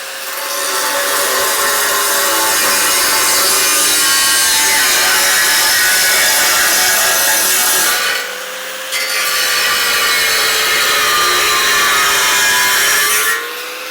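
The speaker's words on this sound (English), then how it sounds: "So we'll take our grinder here and get this cut out." An angle grinder with a cutting wheel slices through a steel piece of a Roadmaster base plate kit for a 2024 Jeep Wrangler, a loud, close, sustained abrasive whine that briefly pauses twice before resuming.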